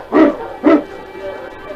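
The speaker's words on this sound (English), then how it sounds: "the dogs raced over the frozen trail" Husky sled dogs on a frozen Yukon trail give two loud, close barks in quick succession, followed by quieter rustling.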